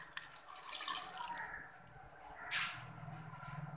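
Water splashes and gurgles as it is poured into a pressure cooker holding mutton with red chilli and turmeric. The pour is soft and continuous, with a brief brighter splash midway.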